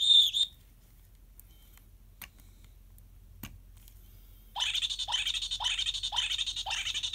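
Electronic circuit from a SmartLab Smart Circuits kit making a high-pitched chirping tone: a brief squeal, a few faint ticks, then a steady run of rapid cricket-like pulses.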